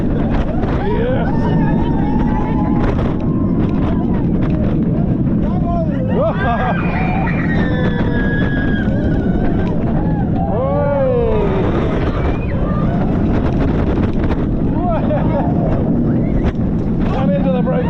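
A B&M Hyper roller coaster at Europa Park roars along the track as loud, steady wind rush buffets the microphone, with rumbling and rattling and riders whooping and screaming through the ride.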